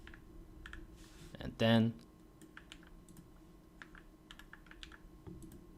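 Soft, sparse key clicks from a computer keyboard while code is typed, with a brief louder clatter near the start; a voice speaks over the beginning.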